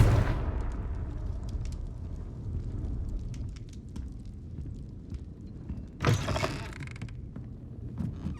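A booming magical blast opens with a sharp hit and a rumbling tail, then a second burst strikes around six seconds, with crackling debris in between, from the Confringo explosion spell in a Harry Potter video game played on Xbox Series X.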